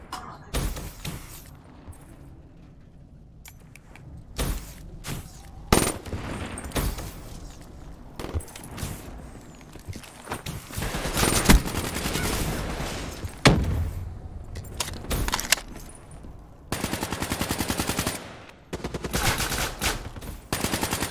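Rapid bursts of nail gun fire from Call of Duty Black Ops 3 on PS4 Pro, loud and close, clustered in repeated volleys with short gaps across the clip, mixed with other game effects.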